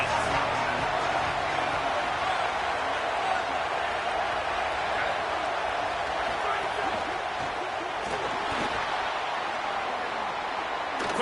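A stadium crowd at a Michigan State football game roars in a steady, broad wash of distant noise, with a commentator talking over it.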